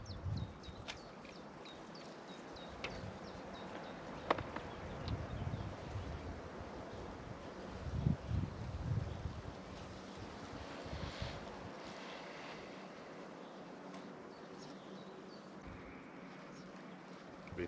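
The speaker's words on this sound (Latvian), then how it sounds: "Vicīt vējiņš traucē visu to padarīšanu" Wind blows steadily across a microphone beside a pond, a low rumbling buffet that comes in gusts, with occasional faint knocks and rustles of handling nearby.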